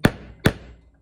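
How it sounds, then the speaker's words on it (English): Two sharp hammer blows strike a nail into a wooden board for snowflake string art, evenly spaced about half a second apart, close and loud, each ringing briefly before fading, with no talking. "So you want to make sure you hammer it down a good amount."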